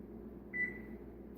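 Kitchen oven timer gives a single short electronic beep as it is set, heard over a quiet low room hum.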